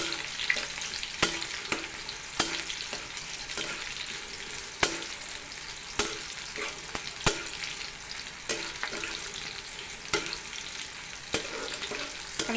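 Onions frying on low heat in a pan for a mung dal and chicken skin dish, a steady soft sizzle broken by regular sharp scrapes and taps of a spatula as they are stirred.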